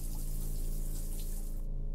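A shower running in a video game, a steady close wash of falling water that stays even and continuous before the high splashing cuts out abruptly near the end, over a low constant hum.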